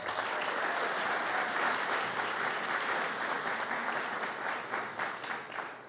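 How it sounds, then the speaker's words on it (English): A crowd at a college alumni awards ceremony gives a sustained round of applause, many hands clapping evenly and filling the room before tapering slightly near the end. "give everyone who's helped put tonight together another round of applause"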